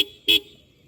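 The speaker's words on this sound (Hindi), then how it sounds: "और पहले से इसका हॉर्न काफ़ी ज़्यादा लाउड हो गया है" The horn of a TVS Apache RTR 160 4V motorcycle, louder than before after a wiring fault from potholes, gives two short beeps, the second stronger, up close with no talk.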